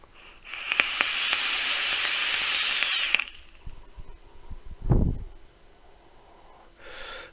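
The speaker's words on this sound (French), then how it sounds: "Ça envoie partout de la vapeur." A long, strong airy hiss of a draw on an ANZU velocity-style rebuildable dripping atomizer by UD Youde with the airflow fully open lasts about three seconds. It is followed by a brief breathy puff and a softer hiss near the end.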